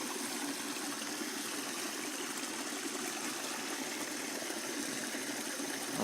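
Creek water pours steadily through a large gaping hole in a breached beaver dam, making a continuous, even rushing and gurgling wash that stays at one level throughout, with no voices.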